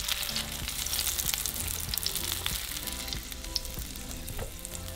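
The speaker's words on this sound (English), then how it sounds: "we're just going to fry them for a couple minutes" Vegetables for green salsa sizzle and crackle steadily in a hot frying pan, a continuous close sizzle with occasional stirring clinks, no voices.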